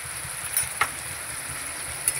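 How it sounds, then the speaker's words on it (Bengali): Spices with salt, turmeric and chilli powder frying alongside potatoes in a pan, a steady soft sizzle running throughout with a few faint stirring clinks, no voices. "এবার সব মশলাগুলো আমি কষিয়ে নেব আলুর সঙ্গে।"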